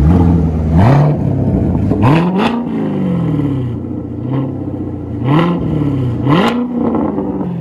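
A Chevrolet Corvette V8 with a new exhaust is revved hard several times close by, each throttle blip climbing then falling back to a deep rumbling idle.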